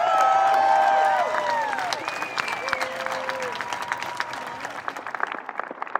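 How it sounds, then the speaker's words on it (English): Crowd at a college commencement applauding the graduates' parents and families, loud clapping mixed with whistles and cheers that gradually thins out. "How about a very loud round of applause for your parents and family."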